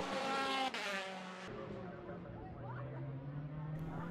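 Formula Boss race cars circle the Mondello circuit, a loud high engine whine cutting off abruptly then a more distant car droning and rising in pitch as it passes.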